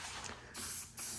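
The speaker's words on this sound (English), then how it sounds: "the most effective way is to just spray it on and let it soak" Plastic restorer sprayed onto Honda TRX250EX ATV plastics in two quick, close, soft hissing bursts from a spray bottle.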